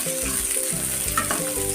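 Roasted peanuts frying in a little oil with salt, a steady close sizzle with soft stirring scrapes throughout.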